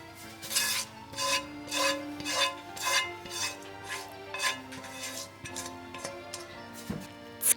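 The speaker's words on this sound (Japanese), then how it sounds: "キノコの旨味を落とすようにゴムベラで混ぜていきます。" A rubber spatula stirs mushrooms in a pot with a pickling sauce, making a steady rhythmic scraping and swishing, roughly two strokes per second, close and moderately loud, with no speech.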